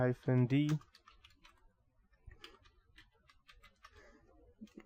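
Faint computer keyboard typing while entering a DNSrecon command, a scattered run of light clicks and taps after a brief burst of speech at the start.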